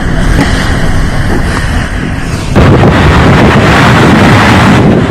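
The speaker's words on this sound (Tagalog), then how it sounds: "Wala ring patawad ang lakas ng hangin at ulang naranasan" Loud, continuous roar of strong wind and heavy rain from Typhoon Rolly battering the microphone in Catanduanes, Philippines, growing harsher and louder midway through.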